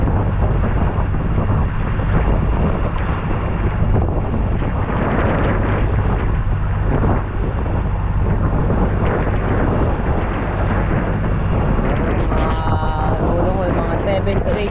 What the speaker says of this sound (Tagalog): Mga 7 to 8 feet ang alon.